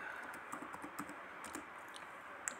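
Rapid clicking keystrokes on a computer keyboard while a network traceroute command is entered on a PC, steady and fairly quiet with no talking.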